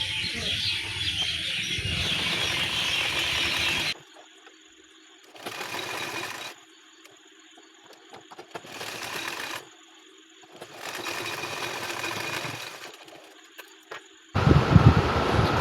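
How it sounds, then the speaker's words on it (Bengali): A sewing machine double-stitching a seam on baby half pants runs in several short, steady bursts separated by quiet pauses, with louder handling noise at the start and end. "আবার কিন্তু ডবল সেলাই করব।"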